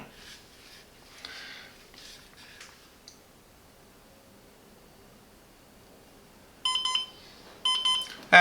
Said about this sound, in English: And after 5 minutes again, the alarm is sounding.